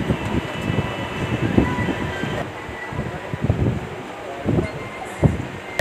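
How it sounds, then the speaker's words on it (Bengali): Ambience at Howrah railway station, a continuous low rumble of trains and rail cars with scattered thumps and clatter, fairly loud and busy, with no clear speech. "আমরা চলে এসেছি এই হাওড়া স্টেশন"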